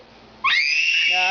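A young child lets out a sudden loud, high-pitched scream at the dinner table, sustained after a quiet moment and then fading into a squealing tail.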